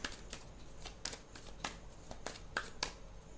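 Tarot cards are shuffled by hand in a quiet room, a soft series of riffling snaps coming at a loose, irregular rhythm.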